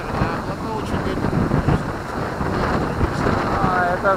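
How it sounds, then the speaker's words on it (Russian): Strong ground-level drifting wind buffets the microphone in a broad, gusty roar that swells and dips throughout, with voices talking faintly underneath. "вот здесь ветер, а плохо очень ветер"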